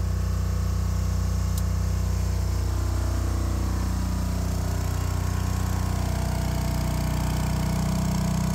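A Philking PK12000STRA diesel generator runs steadily with a loud, low, continuous rumble and a constant engine drone, with no talk over it.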